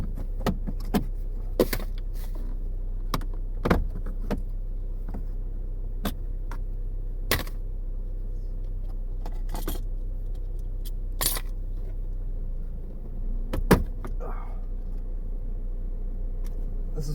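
Plastic dashboard trim on a Toyota Yaris being pried loose, giving a series of sharp, scattered snaps and clicks over a steady low hum inside the car, with a brief scraping creak near the end.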